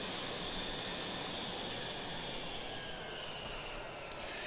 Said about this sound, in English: as you can hear, the engine is spooling down